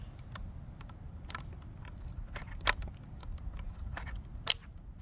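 A BCM bolt is popped out of the bolt carrier of an M4-style rifle, heard as a series of light metallic clicks and taps, close and fairly quiet, with two sharper snaps standing out.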